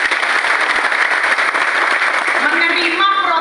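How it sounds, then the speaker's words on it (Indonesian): Audience applause at a public gathering, a steady broad wash of clapping filling the whole stretch, with a voice or tone emerging near the end. "Maka tepuk tangan untuk walinya semuanya."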